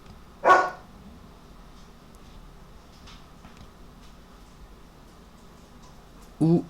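An agitated dog gives two short, sharp barks, one near the start and one near the end, with quiet room sound and faint distant talk between them.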